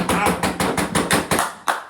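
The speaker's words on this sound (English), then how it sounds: "You get a real round of applause with Wow. that." A series of sharp hand taps or claps, about eight evenly spaced hits in quick rhythm, close and moderately loud, with no voices.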